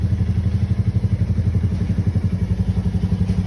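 A motorcycle engine idles on a cold start, a steady close low throb with a rapid pulsing rhythm and light mechanical clatter, no talking.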